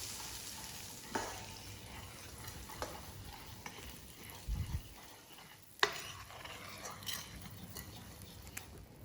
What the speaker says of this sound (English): I'm just going to put a little bit more of this butter on when it's brown.